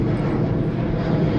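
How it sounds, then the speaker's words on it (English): An airplane passes overhead near a parked 2000 Ford E450 camper van, giving a loud, steady engine roar that fills the clip from start to finish with no one talking. "wait till that plane gets out of here"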